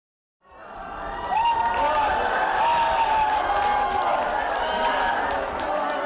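A crowd outside the Seocho-dong residential-commercial apartment building cheers and claps for President Yoon three years earlier. A steady wash of applause and shouts rises after a brief silence, with voices calling out over it.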